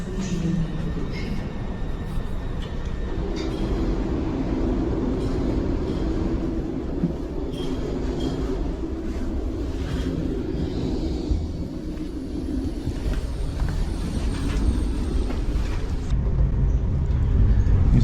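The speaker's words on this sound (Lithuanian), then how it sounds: "Įsėdau į traukinį, labai trumpai jisai stovėjo čia" Steady interior rumble of a passenger train travelling from Lithuania to Poland, a continuous low drone with faint rattles, growing slightly louder toward the end, with no talking.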